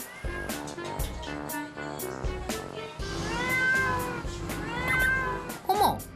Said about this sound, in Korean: 어머, 새끼 고양이?